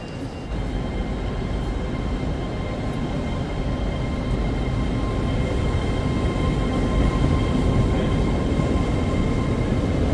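Steady, loud rumble of rail noise inside a train station in Newcastle fills the whole stretch, a continuous train-like roar with a faint high hum above it and no voices.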